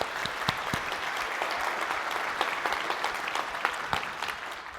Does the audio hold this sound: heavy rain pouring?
no